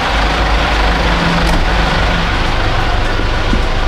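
A car engine runs steadily close by while someone gets into the vehicle, a low constant rumble with faint traffic and no clear speech.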